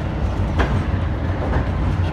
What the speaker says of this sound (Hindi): और हमारी ट्रेन भी मूव हो रही है दरिया से।